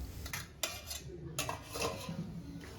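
Dishes and cutlery clink softly and sporadically while a child's rice meal is served, with a few sharper taps of metal on plates over faint room noise.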